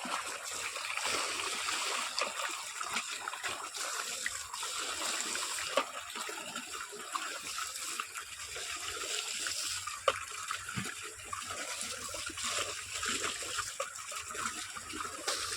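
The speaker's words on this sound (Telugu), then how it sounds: "మొలకకైతే నీళ్ళు పోస్తున్నాయి చూడండి ఫ్రెండ్స్" Water pours and splashes onto sprouting seedlings in a field, a continuous soft gushing and trickling stream heard at moderate distance without talk.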